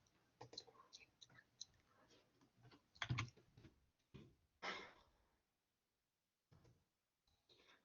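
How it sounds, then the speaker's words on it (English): A computer keyboard is typed on quietly in short irregular bursts of clicks, with a few louder key strikes and brief pauses between runs. "let me type it in"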